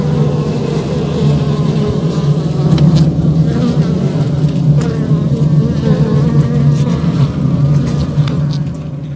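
A dense, continuous drone of honeybees in a Layens hive during an inspection, the loud humming steady throughout with a few individual bees buzzing close by.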